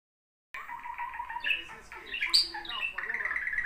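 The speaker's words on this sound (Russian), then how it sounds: "у нас такой юный попугай" A young pet parrot squawks and chirps indoors in a series of bright, shrill calls, with short harsh bursts and one sharp peak near the middle, heard close and fairly loud.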